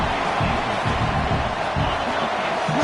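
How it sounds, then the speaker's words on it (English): A stadium crowd in a college football video game rumbles as a broad, steady roar, with a commentator's voice rising and falling over it in bursts. "Listen to the crowd energy here in the early going."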